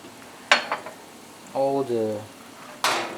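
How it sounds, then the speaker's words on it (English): Caramelized onions being refried in a pan give two short bursts of sizzling, close and fairly loud, separated by a brief tonal hum. "Caramelized onions. Just give it a bit of refrying."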